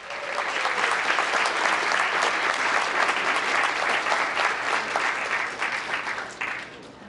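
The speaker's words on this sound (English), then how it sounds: "please give Group 3 a nice big round of applause" Audience at a town council meeting giving a sustained round of applause, dense even clapping that holds loudly for several seconds before tapering off at the end.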